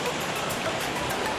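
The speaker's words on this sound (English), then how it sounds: "I just stopped at another river" River water flows under a bridge, a dense continuous rushing wash that stays loud and even throughout the short stretch, with no voices.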